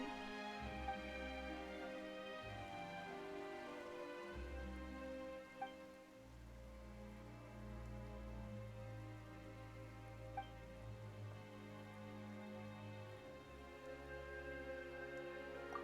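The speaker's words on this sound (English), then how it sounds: "Why is it raining all of a sudden?" Rain falling in the video game Genshin Impact, a steady wash of raindrops under sustained low musical drones and tones, continuous throughout with no speech.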